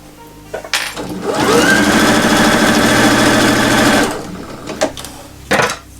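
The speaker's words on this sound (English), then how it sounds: "actually going to sew the bag together on both sides" A sewing machine stitches the two sides of a zippered fabric bag together, running steadily and loudly for about three seconds, with softer handling clicks and rustles before and after.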